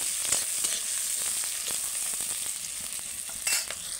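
Chopped onions sizzle continuously in oil, a close, even frying hiss with light repeated scrapes of a spoon stirring through them and a small burst of louder crackle toward the end.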